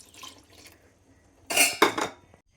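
Thin second-extract coconut milk is poured into a pot of green papaya payasam, with a quiet clink at first and then a short, close splashing burst of liquid.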